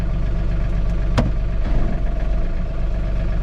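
John Deere 3 Series compact tractor with a front snowblower attachment, engine running steadily outdoors with a low droning hum and a faint vibration, one brief sharp click partway through.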